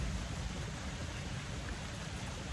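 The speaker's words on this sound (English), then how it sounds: "Yeah, it's raining and sunshine." Rain falls steadily on Lombok Island, a soft, even wash of hiss without breaks, fairly faint and alone.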